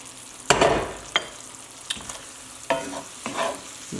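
Sesame chicken and bok choy are tossed in a hot pan, giving a few loud bursts of sizzle and clatter with short pauses between them, close and without voices.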